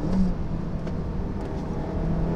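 A car engine drones steadily up close as the driver brakes into a corner and downshifts to second gear, a brief continuous hum with no speech.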